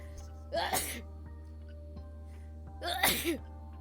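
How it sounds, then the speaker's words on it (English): A person sneezes twice, about two seconds apart, each a sharp, close burst over a steady low electrical hum. "I need to sneeze."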